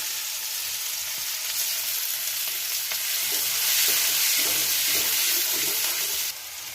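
Onions hit hot oil in a pan where eggplant was just fried, giving a continuous close sizzle that swells partway through, with a few soft scrapes and no voices.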